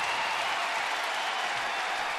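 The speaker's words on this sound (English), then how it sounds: "Some crowd tonight," Packed ballpark crowd of over 42,000 at a 2012 Baltimore at Washington baseball game, cheering and applauding as a steady, dense roar with no break.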